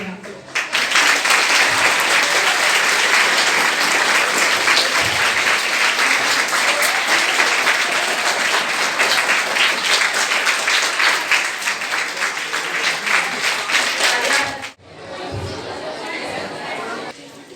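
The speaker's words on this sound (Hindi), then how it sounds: "तालियों की गड़गड़ाहट" Thunderous applause from an audience at a literary event for students, a loud, sustained wash of many hands clapping for about fifteen seconds, then a brief dip and a quieter continuation with murmured chatter beneath.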